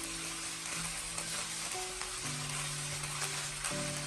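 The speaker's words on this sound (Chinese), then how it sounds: "我們要開小火把肉絲滑散，然後把肉絲炒至微微的變色" Marinated pork shreds stir-frying in oil in a wok over low heat, a soft, continuous sizzle with faint stirring and steady hum beneath, and no voices.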